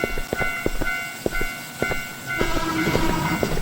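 A train passes in the Teke Teke Moonlit Dread game, its wheels beating a sharp, regular clickety-clack over a low rumble that grows busier and denser toward the end, with no talking.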